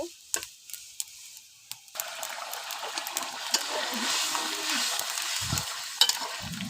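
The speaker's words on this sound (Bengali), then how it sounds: "এখন মাংসটা কষিয়ে নিচ্ছি" Meat for haleem goes into a hot pan: a few scattered clicks and taps, then a sudden rise into a steady loud sizzle while it is stirred and fried, with occasional scrape and knock sounds.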